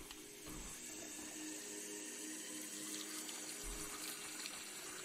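A toilet flushes in the Salad Fingers video game, a steady rushing of water with a hollow gurgle that runs continuously at low volume, with no one talking over it.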